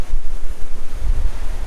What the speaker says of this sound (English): It's really windy this morning, so I'm going to try to talk, and hopefully you can hear me over the wind.